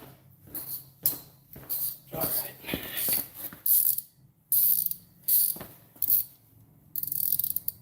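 A ratchet with a shallow 7mm socket tightens bumper bolts on a 2012 Chevy Malibu LT, giving quick bursts of sharp clicking in short irregular strokes, close and clear, with pauses between.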